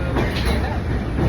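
A passenger train pulling away on a trip through the Konkan region, a dense low rumble and rattle of the carriages heard from onboard, loud and continuous, with a voice talking over it.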